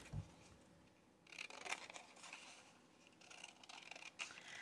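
Scissors trim paper scrap tags up close, a quiet run of soft snipping and rustling cuts with brief pauses, faint and without speech.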